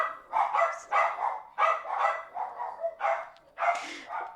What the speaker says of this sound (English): And we have dogs barking in the background